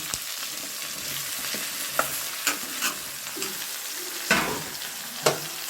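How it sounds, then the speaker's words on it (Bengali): Eggplant pieces are tossed in with other vegetables in a frying pan for a drumstick-flower chorchori, giving a loud continuous sizzle with intermittent spatula scrapes and taps close by. "বেগুন দিয়ে আমি একটু নেড়ে নেব সমস্ত সবজিগুলো নরম হওয়ার জন্য"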